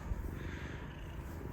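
A cat purrs close by, a soft, steady, low rumbling purr that continues throughout.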